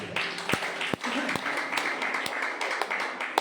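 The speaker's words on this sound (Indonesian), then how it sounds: "Tepuk tangan dulu bagi Allah" A church congregation at a Sunday worship service applauds, steady crowd clapping with sharp individual claps standing out, mixed with voices and room sound.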